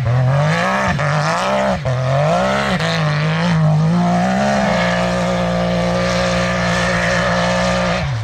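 A Can-Am Maverick X3 UTV with roughly 300 hp revs loudly and close by, its engine rising and falling in a wavering, surging drone before settling into a steadier, throbbing off-throttle burble.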